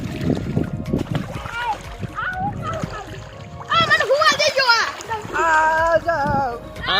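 Children splash about while bathing in a canal. Water churns loudly and children shout, laugh and talk close by throughout.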